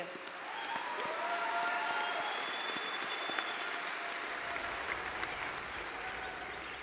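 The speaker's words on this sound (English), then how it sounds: "Let's give a big round of applause to this year's A.C. Whitey Thompson Award winner, Dale Bendig." A long round of applause from a large crowd for an award winner at a dairy cattle show ceremony, even and sustained, with a few whistles and cheers rising above it.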